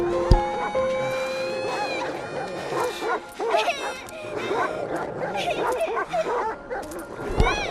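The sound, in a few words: rabid dogs barking in the video game Valiant Hearts: The Great War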